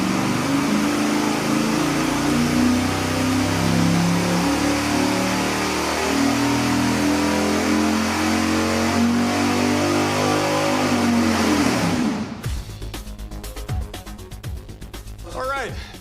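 A V8 engine fitted with a bigger cam revs hard and steadily on an engine dyno, a loud sustained roar that cuts off at about twelve seconds, leaving only sharp clicks and rattles afterward.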